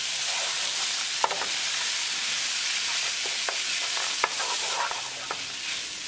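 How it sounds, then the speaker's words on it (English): Shredded canned chicken and sweet peas stirred in a pan over medium heat, a steady close sizzle with occasional sharp scrapes and clicks of the utensil, no voices. "and mix it well."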